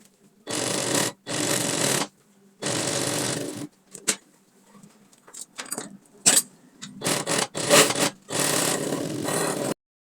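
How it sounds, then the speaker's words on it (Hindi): A sewing machine stitches along a V neckline in several separate runs of steady, close mechanical whirring, with quiet fabric handling and small clicks in the gaps and no talking. "अब हमने इसकी इधर सिलाई लगानी है"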